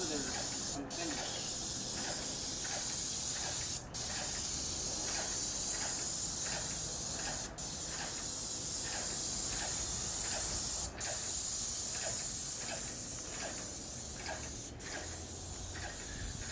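A paint sprayer puts the first coat on a house exterior with a continuous loud hiss, broken by brief pauses every few seconds as the trigger releases.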